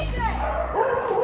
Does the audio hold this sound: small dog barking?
yes